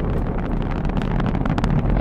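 Saturn V rocket engines roaring at an Apollo liftoff, a dense, continuous, loud rumbling roar with crackling texture that fills the whole stretch without any voices.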